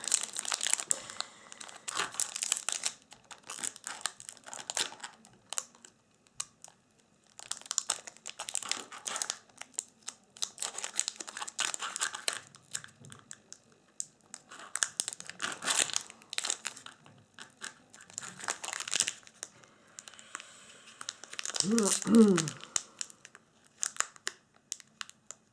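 Crinkling and crumpling of a Magic: The Gathering Shadows over Innistrad booster pack wrapper being opened, close and quiet, coming in irregular bursts of rustling with brief pauses between handlings.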